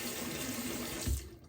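A bathroom tap runs steadily while a soft, creamy shaving soap is lathered, a close hiss of water that thins and fades toward the end.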